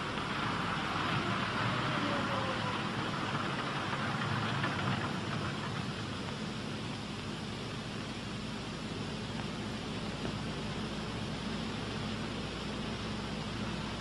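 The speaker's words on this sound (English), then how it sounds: "advance throttles to full open as the" A steady, broadband piston engine drone from a P-61 Black Widow aircraft runs throughout, loud and close, with a rough idling texture that holds level without fading.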